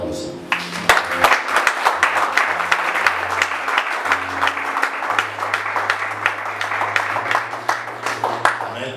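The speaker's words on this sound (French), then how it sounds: "Acclamons le Seigneur." A church congregation applauding at an Easter service, dense sustained clapping filling the space at steady loudness, with a low hum or organ tone running underneath throughout.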